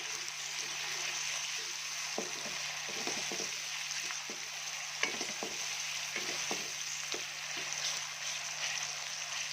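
A potato, cauliflower and tomato curry fries in a pan with a steady sizzle, while a spoon scrapes and stirs in repeated knocks, close and with no one speaking.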